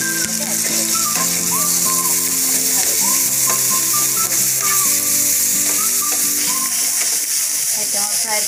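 Onion paste frying in oil for a Bengali prawn malai curry, a continuous sizzle beneath a tonal melody, with scattered small clinks and bubbling throughout.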